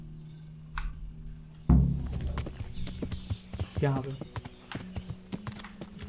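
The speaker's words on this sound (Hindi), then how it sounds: "ये घोड़ा चलाना ठीक ठीक आ गया है" Horse hooves clip-clopping at an irregular pace while riding in Kingdom Come Deliverance, with thuds and someone talking over the footfalls.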